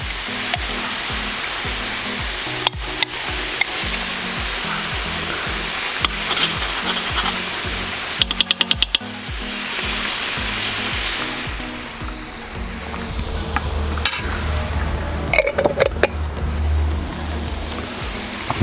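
Continuous frying sizzle of meat with carrots and onions in a kazan with occasional scrapes and clicks of stirring, steady and close throughout, no voices.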